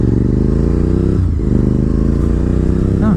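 A Honda RC51 (VTR1000 SP2) sport motorcycle pulls away from a stop, its engine revving steadily and loudly up close with a rising harmonic drone that runs through the whole stretch, briefly dipping then climbing again.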